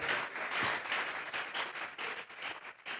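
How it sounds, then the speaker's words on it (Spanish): A church congregation applauding, a brief burst of dense clapping from many hands that swells and then thins out, moderately distant in a reverberant room. "Vamos a darle otra ofrenda de palmas a nuestro Dios"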